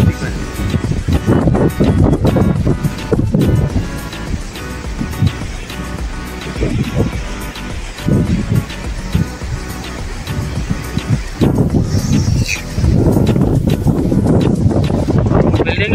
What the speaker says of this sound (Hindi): लहरें बहुत है, वरना आम दिनों में इतनी लहरें नहीं होती हैं इस तरीके से।